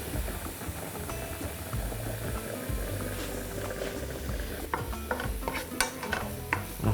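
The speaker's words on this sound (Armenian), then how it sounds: "Թող տապակվեն, անցնենք արագ մյուս բաղադրիչին։" Food frying in a pan while cooking rice-paper pies, a constant sizzle and bubble under irregular clinks and scrapes of stirring, close and fairly loud.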